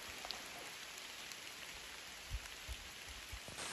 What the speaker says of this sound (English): it's a pretty spectacular view, even though it's pouring with rain